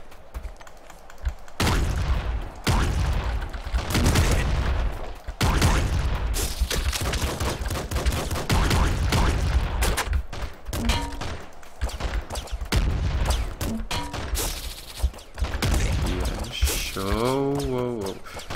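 Rapid gunfire in the Nuclear Throne video game: dense, continuous bursts of small game shots and impacts, loud and close throughout, with brief pauses and a warbling electronic effect near the end.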